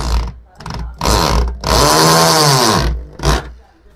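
A power drill whirs in short close bursts while fixing a Portronics My Buddy L folding wall-mounted table, revving up loudly for a long run in the middle, with a voice speaking between bursts.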